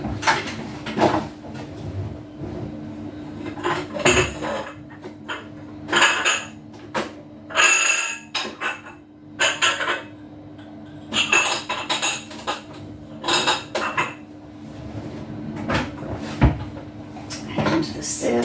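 Kitchen cupboards open and shut while a bowl and sieve are pulled out, with ceramic and metal dishes clattering in irregular bursts, some sharp knocks up close, and quieter pauses between them.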